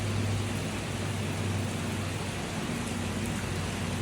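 Steady rain pouring in Ottawa, Canada, a dense, even hiss of drops on surfaces close by, continuous and unbroken with no voices.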